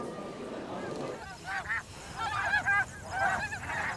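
Geese honk in a loose flock, several overlapping calls at middle distance, following a brief stretch of quieter background noise.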